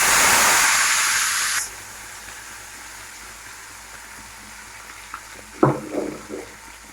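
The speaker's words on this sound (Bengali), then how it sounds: "কড়াটার মধ্যে দিয়ে দেবো মশলাটা," Masala dropped into a hot kadai, a loud sizzle that bursts at first then settles into a quiet, steady frying hiss, followed by a few soft stirring clatters.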